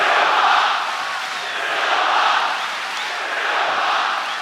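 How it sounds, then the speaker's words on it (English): A large fight-night crowd in a Melbourne arena chants a fighter's name, a dense, steady roar of many voices swelling and ebbing in rhythmic waves. "I believe I'm hearing Silva chants here in Melbourne"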